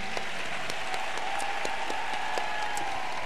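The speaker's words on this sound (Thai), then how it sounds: "ปรบมือหน่อยครับผมสุดยอดมาก" An audience at a stage talk event breaks into sustained, dense applause, a steady wash of clapping that carries on throughout.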